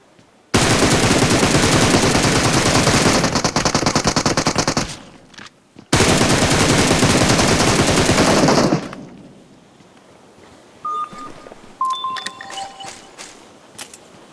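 Automatic rifle fire in PUBG Mobile, two long loud sustained bursts of rapid shots, then scattered single shots, beeps and faint game effects.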